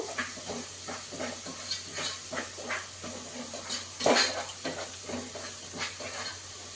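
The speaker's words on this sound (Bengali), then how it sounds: "মশলাটা আমি খুব সুন্দর করে ভেজে দিব" Cumin, coriander and chilli powder masala frying in a pan for egg biryani, a steady sizzling hiss with faint stirring taps and one louder spatter burst midway.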